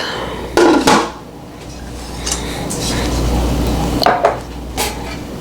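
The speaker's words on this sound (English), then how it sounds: "It's time to flip it out." A 1940s-style victory cake being flipped out of a metal bundt pan, with a couple of close clanks and knocks of the pan against the counter and a soft rattle in between.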